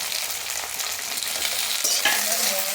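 Chopped medium tomato dropped into lightly fried onions in a pan, giving a steady close sizzle with stirring scrapes, the frying swelling briefly as the tomato lands.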